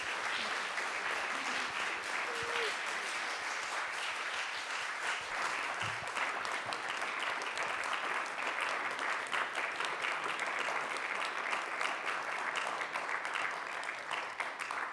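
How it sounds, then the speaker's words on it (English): A concert-hall audience at a conversation-and-concert event applauds two music students, Paulina and Karen. The clapping is warm and sustained, an even, crowded patter that holds steady for around fifteen seconds with no talking. "Let's give them a warm round of applause."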